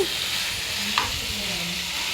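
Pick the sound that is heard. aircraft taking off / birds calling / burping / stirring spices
stirring spices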